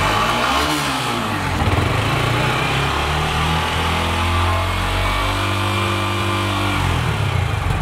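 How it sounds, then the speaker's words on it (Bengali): A second-hand Yamaha R15 V3 motorcycle, two and a half years old with 4,000 km on it, runs close by at a showroom, its engine idling loudly and steadily with slight revs and no talk. "তো চলো বাইকটা এবার স্টার্ট করে নিই আমরা।"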